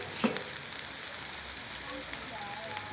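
Fried vegetables such as potato sizzling in a pan for egg chowmein, a soft, steady crackle and hiss with a small clatter near the start.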